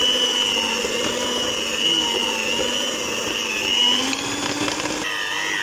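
Electric hand mixer whipping cream in a home kitchen, a steady high whirring drone running throughout at close range, pitch dipping briefly near the end.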